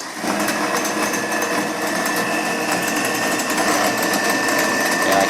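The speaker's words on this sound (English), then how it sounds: "the hand mixer will turn on" A hand mixer's small electric motor whirs steadily at a high pitch, running continuously and close by without pause.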